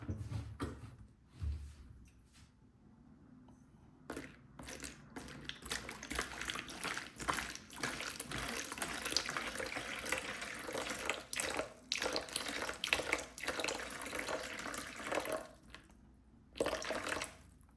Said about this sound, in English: I'm gonna start by adding the water.